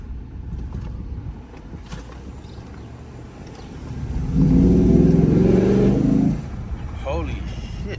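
2015 Cadillac Escalade 6.2 V8 fitted with a Banks cold air intake, revving up into a deep, loud engine roar for a couple of seconds before settling back, heard from nearby under background noise.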